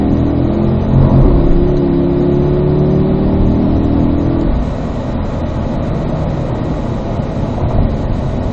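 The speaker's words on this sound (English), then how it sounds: "just squeeze it on the throttle" A race car on the Spring Mountain North Course accelerates under throttle, loud steady engine drone rising in pitch through the first half, then settling to a constant roar with wind noise.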